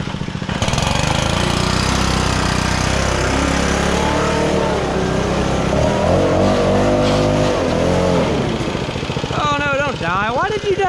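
A John Deere 14SB mower engine running on an aftermarket Amazon carburetor, a loud steady motor drone with uneven surging and some revving, close by, with a high whine toward the end.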